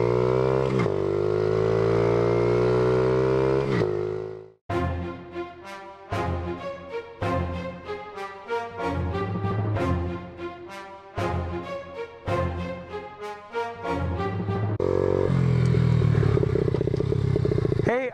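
Dirt bike engine revs and drones near the microphone, rising in pitch as it accelerates, then cuts into a choppy stretch of rapid irregular bursts before roaring steadily again; no talking is heard.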